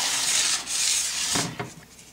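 A plastic spreader scrapes Bondo body filler on a 1993 Dodge Ram 150, giving close, loud, continuous rasping strokes with a short break and a couple of softer scuffs toward the end.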